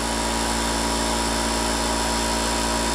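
A VEVOR 13-gallon, 126 psi air compressor runs loud and close with a dense, unbroken mechanical roar that stays constant the whole time.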